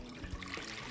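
Brine is poured into a cooking pot on a stovetop burner, giving a brief, quiet trickle and splash of liquid that lasts under a second.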